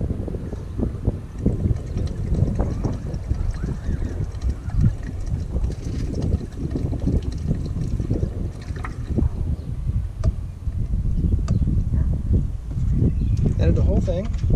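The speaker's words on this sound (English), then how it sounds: "Wind's kicking up a little bit here" Gusty wind rumbles steadily across an open outdoor spot during an oil and filter change on a 2016 RAM 1500 with a 5.7L Hemi, a continuous low roar of microphone buffeting with a voice talking over it.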